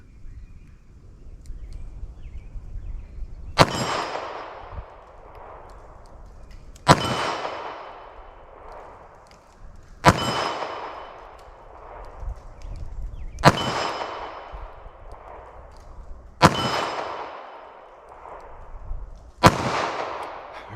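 Six loud gunshots ring out from a .32 H&R Magnum snub-nose revolver at an outdoor range, evenly spaced about three seconds apart, each a sharp crack followed by a rolling echo.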